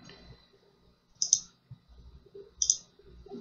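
A computer mouse gives two quiet, sharp clicks about a second and a half apart, heard alone against a faint background with no speech.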